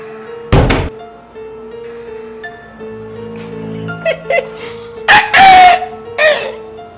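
A rooster crows nearby, loud drawn-out calls near the end, with a heavy thump at the start, dog-like barks and scattered household knocks in between.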